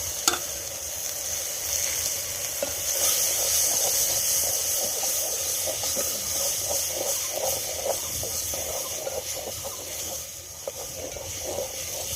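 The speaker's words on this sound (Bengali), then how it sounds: "এই যে পোলাওয়ের চাল দিয়ে দিচ্ছে পেঁয়াজের ভেতরে" Polao rice stirred into onions frying in oil in a village kitchen, a steady close sizzle and hiss with continuous scraping and stirring noises throughout.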